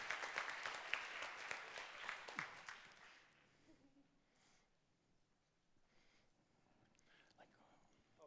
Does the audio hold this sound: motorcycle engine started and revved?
no